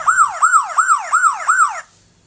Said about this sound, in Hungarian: A rendőrautó próbálja üldözni a nagyon gyors piros autót.